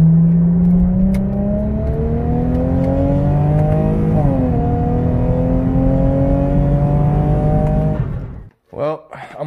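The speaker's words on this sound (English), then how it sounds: "I hope y'all enjoyed that little pull" A supercharged Lexus IS250 F-Sport pulls hard at half throttle, its engine note climbing steadily and loudly up close through a gear change before cutting off near the end.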